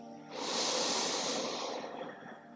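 A single deep inhale during a yoga breathing exercise, drawn in close and clear over about two seconds as a soft airy rush, with no other sound.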